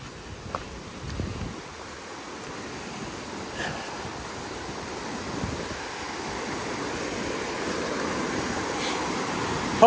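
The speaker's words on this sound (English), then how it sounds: "This river sounds a little angry." Continuous broadband roar of a rushing river on the Appalachian Trail, steady and full, swelling slightly louder toward the end with no voices.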